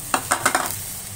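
Bean sprouts and tofu stir-fried in a pan for a spring roll filling: four quick scraping stirs in a row, each with a short sizzle, then a faint lingering fry.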